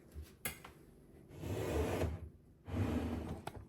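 A kitchen drawer on new rails slides out and back in twice, smooth rolling runs separated by brief pauses, with light clicks at the ends, near and quiet.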